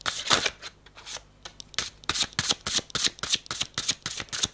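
Tarot cards handled and flipped over on a table, a series of sharp papery snaps and slides in uneven bursts, close and fairly loud, with no talk over them.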